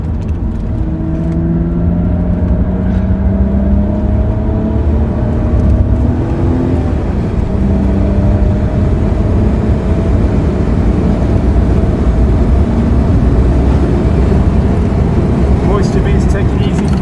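A car heads out onto the track at Donington Park in slightly damp conditions, its engine humming steadily with gently rising and falling tones, close and continuous from inside, while someone talks over it.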